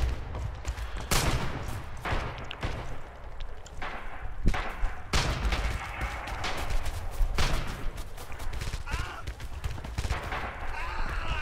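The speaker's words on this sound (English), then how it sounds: "And the MG42 again." MG42 machine gun fire in the video game Red Orchestra 2 rattles out in loud, dense, rapid bursts, nearly continuous with brief pauses, layered with heavy battlefield gunfire.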